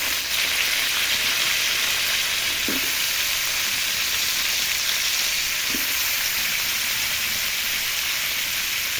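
Mixed vegetables fry in a pan for vegetable adobo, a steady loud sizzle holding throughout, with a couple of soft stirring knocks and no talking.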